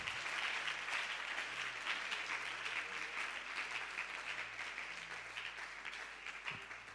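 Church congregation applauding at an evening prayer and fasting service in Côte d'Ivoire, steady sustained clapping from many hands for about seven seconds, fairly distant and even, with faint background tones beneath.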